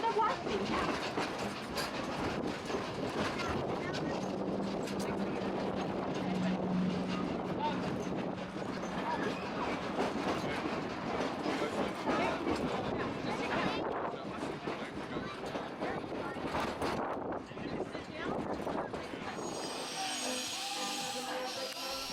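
Nevada Northern Railway train pulling out of Keystone on its run back to Ely, a steady rumble and rattle of cars rolling along the rails throughout, with a narrator speaking over it.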